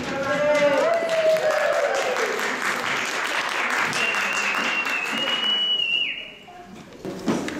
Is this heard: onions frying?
no